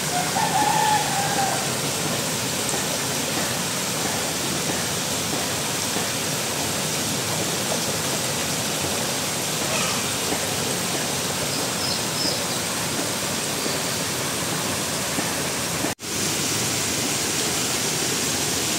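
Broad, steady rush of river water flowing through a village, a continuous hiss and churn close by that holds for most of the stretch before a sudden brief cut.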